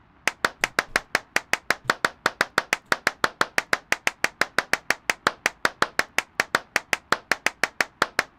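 Hand clapping from the horror video game Clapism repeats as a steady, loud, evenly spaced series of about forty sharp claps, alone without talk.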